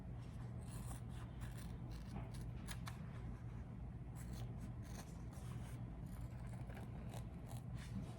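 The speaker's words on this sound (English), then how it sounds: "now we're going to simply cut the piece exactly to what's there" Small scissors snip repeatedly through a glued layered piece for a heart necklace, producing a quiet series of crisp cuts and light scraping close by, with no voices.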